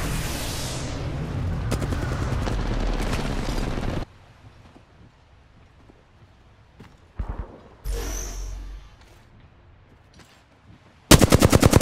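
Video game gunfire bursts out in loud automatic rattles, first sustained for several seconds, then gives way to quieter gaps with scattered shots and a whoosh before another loud burst at the end.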